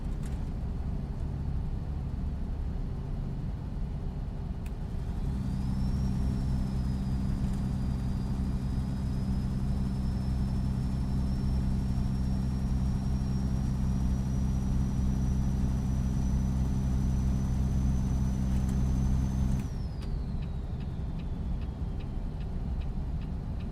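Truck engine fitted with a Zeemods engine mod in American Truck Simulator, a steady low droning rumble with a thin whine that climbs slowly, holding for about fifteen seconds before dropping away, with no talk.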